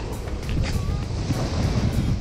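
Strong side wind gusting at sea from a fishing boat, a steady broadband roar of wind buffeting the microphone over the wash of choppy, slightly rough water, continuous and close with no talking.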